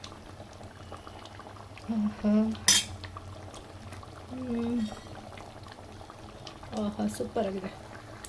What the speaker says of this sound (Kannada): 1-2 ನಿಮಿಷ ಕುದಿಯೋಕೆ ಇಟ್ಟಿದ್ದೀನಿ